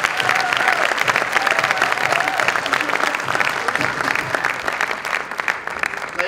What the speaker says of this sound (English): Give him a thunderous round of applause and make him feel good.